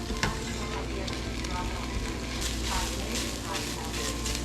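Black beans and tofu sizzle steadily in a pan with a splash of vegetable broth and no oil, a close, continuous crackling fry with occasional stirring, under a voice.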